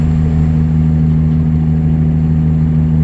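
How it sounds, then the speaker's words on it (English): Truck engine in American Truck Simulator drones loud and steady close by, a constant low hum with a strong tonal whine and no talking. "The engine's kind of loud."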